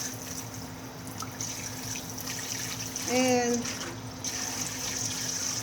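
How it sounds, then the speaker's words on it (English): A kombucha SCOBY is rinsed under cool running tap water, a steady faucet flow with splashing as the culture is handled, while a person speaks briefly over it. "While I have my SCOBY out, I'm going to also give it a rinse in cool water."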